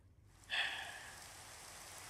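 Minecraft rain in the GregTech modpack begins abruptly as a hissing downpour, then settles into a steady, soft wash of falling drops, faint and unaccompanied.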